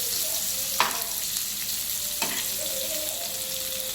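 Masala-coated rawas fish pieces pan-fry with a continuous close sizzle, interrupted twice by clattering scrapes of a utensil turning the pieces, with no talk.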